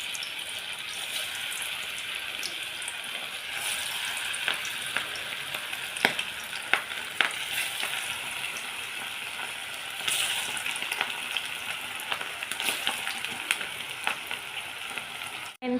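Chicken pakodi, Andhra style, frying in hot oil: a steady dense sizzle with occasional sharper crackles and pops throughout, close and continuous, no talking.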